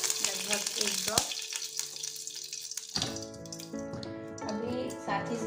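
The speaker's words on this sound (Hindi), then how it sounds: "पहले हम इसमें थोड़ा सा ऑयल डालेंगे, एकदम कम, लगभग एक ड्रॉप।" Oil heating in a pan for a low-oil fish masala curry, with a soft continuous sizzle and hiss that grows denser midway, accompanied by faint clinks and a brief sharp knock near the start.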